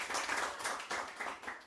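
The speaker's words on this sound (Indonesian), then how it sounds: "Berikan tepuk tangan yang meriah buat Tuhan Yesus" Church congregation at a Sunday worship service claps for Jesus, a brief, fairly quiet burst of applause with uneven swells of hand claps.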